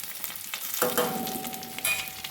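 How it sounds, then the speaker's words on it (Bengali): Ginger-garlic paste and ground spices sizzle in a hot pan for a pointed gourd (potol) dish, a steady frying hiss that jumps louder as the spices hit the oil, with light stirring and no voices. "ভালোভাবে একটু কষিয়ে নেব যাতে আদা রসুনের গন্ধটা কেটে যায়"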